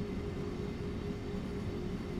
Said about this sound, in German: da kommt uns ein ICE 3 entgegen.